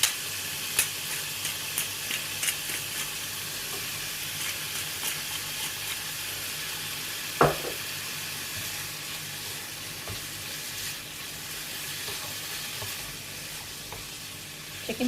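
Chicken pieces seasoned with black pepper powder fry in a pan, giving a steady close sizzle with occasional stirring scrapes and taps and a sharp clatter midway, without talking.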